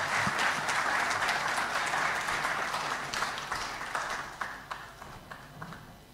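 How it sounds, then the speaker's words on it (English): Meeting audience applause at a regional address, a moderate burst of many hands that gradually thins out, leaving a few sparse, distinct claps near the end. "that clap is not a clap for the chairman of IGAD"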